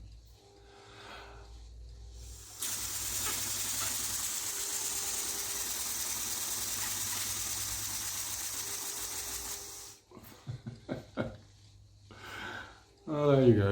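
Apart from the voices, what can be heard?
balloon powered single cylinder air engine car running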